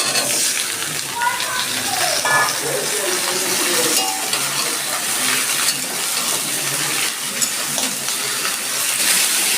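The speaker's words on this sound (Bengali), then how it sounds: "দিয়ে দিচ্ছি গরমে এবার দিয়ে দিচ্ছি আমি ডাটাগুলো" Drumstick stems with onion and cumin fry in hot oil, giving a loud, continuous close sizzle with occasional stirring clatter, while a voice talks over it.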